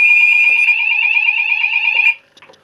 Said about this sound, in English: Fire emergency. Please remain calm and evacuate the building